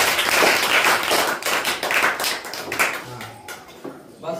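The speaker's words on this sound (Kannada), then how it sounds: "Very good. ಚಪ್ಪಾಳೆ." A class of students claps together in a classroom, dense and loud at first, then thinning out into scattered claps over a few seconds, with a voice briefly heard near the end.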